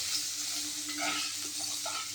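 Flat beans frying in oil with a little salt and turmeric, a quiet, even sizzle running steadily with faint scrapes as they are turned.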